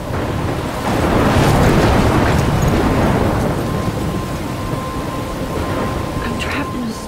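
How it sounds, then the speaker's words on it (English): Thunderstorm in the video game Life is Strange, a sustained roar of heavy rain and wind with deep rumbling throughout, loud and constant, swelling slightly in the middle. "I'm trapped in a storm?"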